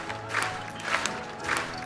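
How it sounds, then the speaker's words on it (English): An animated jungle crowd claps and cheers for a tortoise winning a race, a dense wash of steady applause with occasional louder bursts, heard at moderate volume. "The entire jungle started clapping for the tortoise."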